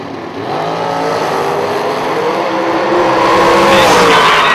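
Door cars roar in a bracket drag race at a strip, a loud sustained engine wail that builds and climbs steadily in pitch as they launch and accelerate, close and continuous throughout.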